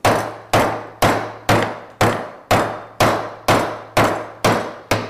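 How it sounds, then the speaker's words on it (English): A hammer strikes a chisel set on a walleye's spinal column during taxidermy, ten loud, evenly spaced metallic clangs about half a second apart, each ringing briefly before the next blow. "I got the chisel on that spinal column, and I'm just going to break it."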